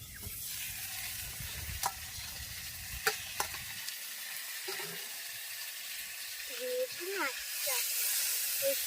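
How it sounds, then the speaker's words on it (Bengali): Catfish head frying in oil in a covered pan, a soft steady sizzle with occasional sharp pops and spits, faint and close, along with a few clinks and brief voice-like sounds near the end. "মাথাটা কেটে নিয়েছি, কাটা মাথাটা ভাজা হচ্ছে, তাই চাপা দিয়ে রেখে দিয়েছি।"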